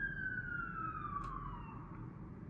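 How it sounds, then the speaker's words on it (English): An emergency siren passes on a residential street, one steady wailing tone that drifts downward in pitch as it moves away, over a low rumble of traffic noise, with no voices. "Ambulance."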